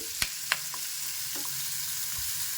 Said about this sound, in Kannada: ಇದನ್ನು ಹೈ ಫ್ಲೇಮಲ್ಲೇ ಇಟ್ಕೊಂಡು ಈ ಥರ ಫ್ರೈ ಮಾಡ್ಕೊಳ್ಬೇಕು.